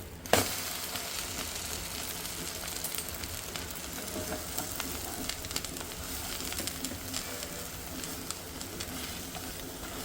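An egg omelette frying in a pan for omelette curry gives a steady, close sizzle that hisses on for the whole stretch with no pause and no voices.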